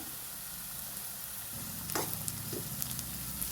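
Chopped onion and green chillies sizzle steadily in hot oil in a pan while kanda poha is being made, with a denser crackle and a few stirring clinks in the second half; no talking.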